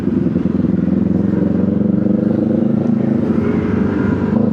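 A Chinese-brand motorcycle rides past at night during a New Year's ride, a loud, close, continuous engine drone with a rough, clattering pulse throughout.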